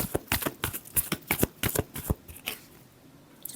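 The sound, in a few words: shuffling tarot cards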